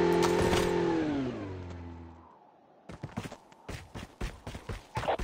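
A motorbike engine in the Call of Duty video game drones with a strong, steady pitch, then winds down and cuts out. Sharp, irregular clattering bursts follow.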